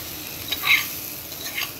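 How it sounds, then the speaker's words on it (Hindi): Hot oil sizzles softly as mustard seed tempering is stirred in, a brief close crackle with a light scrape of a spoon. "अब इसमें इसका तड़का डाल दूँगी"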